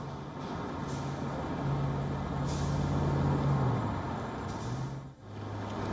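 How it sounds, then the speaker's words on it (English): Street traffic at a standstill in Ukraine, heard as a steady low rumble of idling trucks and buses with a few hissing air-brake releases, moderately loud and continuous. "Traffic has come to a standstill in Ukraine."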